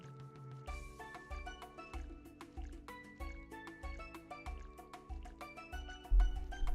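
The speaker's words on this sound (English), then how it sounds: "Can you hear the sound effect of the whisking?" Wet, squishy whisking effect in the Trails Beyond the Horizon video game, repeating in a steady rhythm over game music with low pulsing tones and bright chimes, fairly quiet throughout.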